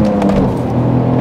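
A 2003-era Alfa Romeo 156 GTA with the Busso 3.2 V6 pulls under acceleration, a loud, close, rising engine note heard from inside the car, with no talking.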